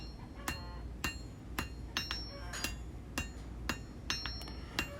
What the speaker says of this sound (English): we'll go with a little larger hammer and go ahead and finish up the weld